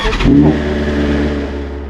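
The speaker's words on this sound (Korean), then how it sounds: "진정한 오토바이 소리다" A parked motorcycle engine, one of a group that includes a BMW S1000RR, R9T and F800GT, gives a loud, close rev. The revving swells sharply and then settles back into a steady, low idling rumble.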